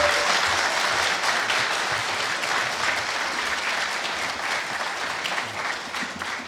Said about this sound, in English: And we give applause for all the candidates.